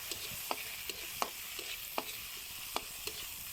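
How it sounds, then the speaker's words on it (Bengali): Chopped onion and sliced chillies frying in oil for a potato and bitter gourd dish, with a soft steady sizzle and a series of sharp spoon-on-pan stirring clicks repeating every half second or so. "এখন এটাকে আমি নেড়েচেড়ে ভেজে নিচ্ছি।"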